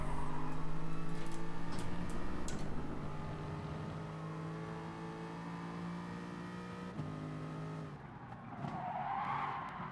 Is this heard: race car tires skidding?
yes